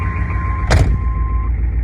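A car door-open warning chime sounds steadily over a GM truck's low engine idle, interrupted by a brief thump midway, then stops.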